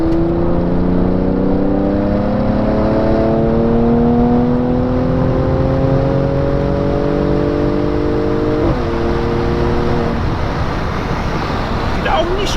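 A Mercedes C43 AMG with 433 PS and 600 Nm pulls hard from inside the cabin, engine tones rising steadily through the gears with a shift partway through, loud and continuous under road and wind noise.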